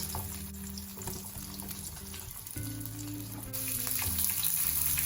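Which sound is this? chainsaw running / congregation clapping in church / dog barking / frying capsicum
frying capsicum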